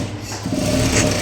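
A sewing machine stitches a blouse sleeve in a short, close burst of rapid mechanical whirring, quieter at first and then running faster and steadier, with no voices.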